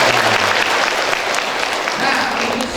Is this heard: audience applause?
yes